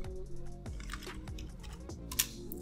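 Someone types a password on a computer keyboard, producing faint, quiet key taps spread across a few seconds, with a slightly louder final keystroke near the end.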